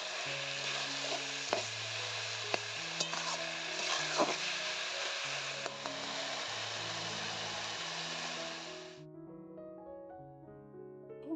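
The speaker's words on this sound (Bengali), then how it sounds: "ডাঁটাটা কিন্তু খুব সুন্দর করে ভেজে নিতে হবে" Elephant foot yam stalks fry in oil over a low wood-fire stove, giving a steady close sizzle with a few sharp clicks and knocks from stirring, then the hiss cuts off abruptly near the end, leaving quiet clatter.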